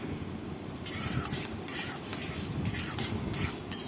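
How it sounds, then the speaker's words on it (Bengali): Moong dal is stirred and fried in a pan with a little fenugreek, a close, busy sizzle broken by regular scraping strokes of the spoon. No voice is heard. "মুগ ডালটা আমি কিন্তু ভালো করে ভেজে নেব"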